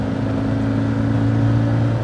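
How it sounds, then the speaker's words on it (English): A Renault 20 TX engine running on the road while driving, a steady, loud, slightly rough drone with a constant low hum close up and no other sounds. "As you can hear, it's not the smoothest engine in the world"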